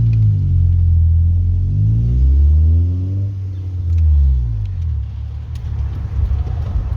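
A car engine with VTEC engaged revs hard, producing a loud, close rumble with repeated swooping pitch climbs and drops, rising and falling several times before settling into a rougher, steadier drone.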